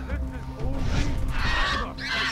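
Cassowary calls from the jungle of the video game Far Cry 3: a few short honking, goose-like squawks, moderately loud over game ambience, with talk running through.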